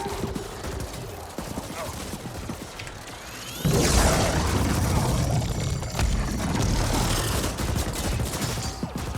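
Gunfire from a weapon in the video game The Ascent, a dense, continuous mechanical rattle of rapid shots that grows louder midway and carries on steadily to the end.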